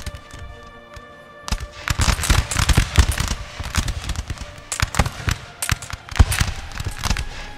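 Massed musket volleys in a Napoleon: Total War battle, with grenadiers and Jaeger infantry, fired at a house. Dense bursts of crackling shots come in overlapping waves, sparse at first and then thick and loud, with no talk over them.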